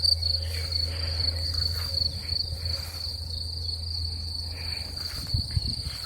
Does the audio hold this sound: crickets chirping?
yes